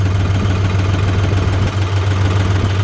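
A tractor engine runs steadily on a farm during maize sowing, a loud, constant low hum with a rough rumbling texture and no voices.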